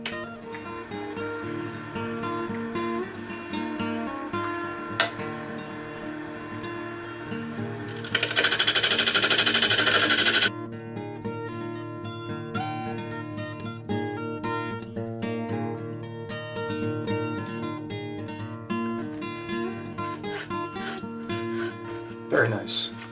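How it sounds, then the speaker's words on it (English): A wood lathe turning a piece of firewood at 900 RPM gives a steady hum while a spindle gouge scrapes against the wood, with one loud two-second burst of cutting partway through and someone talking throughout. "So I've got my lathe set at 900 RPM and I'm just going to come in with the spindle gouge just to try to take some of this off."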